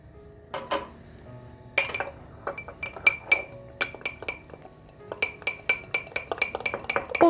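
A spoon stirs flour and water inside a glass lemon squeezer with bright, close clinks and taps coming in quick irregular bursts with short pauses, and nobody speaks.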